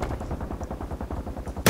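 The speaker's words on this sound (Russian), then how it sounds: "совсем рядом стрельба" Rapid bursts of gunfire crackle nearby in the zombie escape game Pandemic Express, a dense rattling machine-gun-like rhythm ending in a louder sharp blast.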